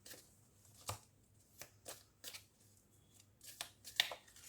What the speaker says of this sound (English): we'll take out 2 cards for January and 2 for February